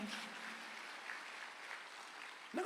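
Church congregation applauding at a Sunday afternoon service, a faint, steady patter of many hands sustained throughout, with a sharper burst near the end.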